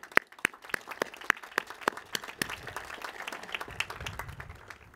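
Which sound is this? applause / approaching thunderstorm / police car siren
applause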